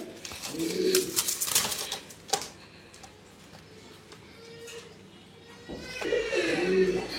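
Low, throaty pigeon cooing at a pigeon farm rises at the start and again near the end, with a voice talking and brief rustling in between.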